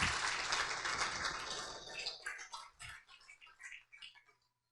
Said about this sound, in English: So give a round of applause for these people who stepped up to leadership.